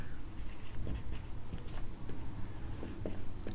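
A chemistry formula is written out by hand, quick scratchy pen or chalk strokes in short irregular bursts, close and quiet over a low background hum.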